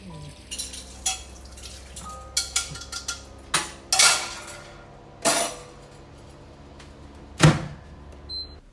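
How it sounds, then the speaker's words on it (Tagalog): Scattered clinks and clatters of plates and utensils being handled, irregular and close, with quiet gaps between sharper knocks. "pakihugas yung pinggan sa lamesa"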